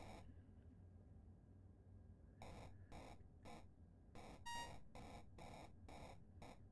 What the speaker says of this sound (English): Oh, that's when a beanstalk branch finishes growing.